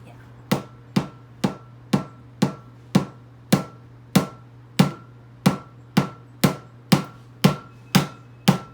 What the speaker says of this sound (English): take a hammer and gently, so you don't ruin the bulb, hit the wax with the hammer